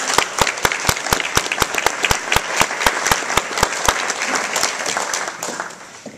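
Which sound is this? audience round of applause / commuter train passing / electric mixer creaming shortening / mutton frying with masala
audience round of applause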